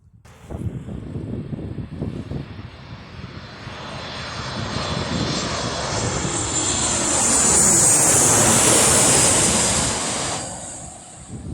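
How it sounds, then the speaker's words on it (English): A large Boeing 747 cargo aircraft passes overhead with a broad, steady engine roar that swells louder toward the middle and then slowly fades, heard alone without talk. "I believe it's some sort of cargo aircraft, I would say."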